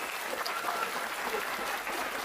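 Audience applauding teachers at a school graduation ceremony, a steady, dense wash of many hands clapping throughout, moderately distant with faint voices underneath.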